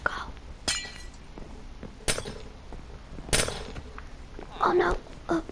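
Glass blocks break in Minecraft with several sharp, bright shattering crashes spread out over a few seconds, each brief and close.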